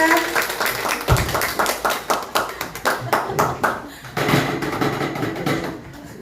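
A crowd claps in a steady rhythmic beat, loud and close, breaking into looser applause toward the end, with some voices mixed in.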